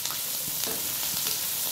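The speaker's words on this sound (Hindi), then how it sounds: "इसमें हमने प्याज ऐड किया है, तकरीबन 1-2 मिनट से करेंगे हल्का सा ब्राउन" Onions fry in a pot with ginger and garlic, giving a continuous dense sizzle with faint stirring taps, close and steady.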